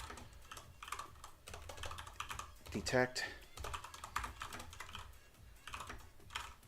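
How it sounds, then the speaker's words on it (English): Fast, uneven typing on a computer keyboard clatters continuously at close range while someone speaks briefly over the keystrokes. "Oh my god, I cannot type on this keyboard."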